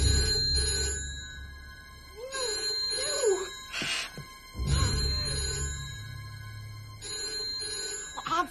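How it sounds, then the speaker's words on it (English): An old-style telephone bell rings in repeated bursts separated by pauses, loud and close, with background noises in between. "Answer the bloody phone."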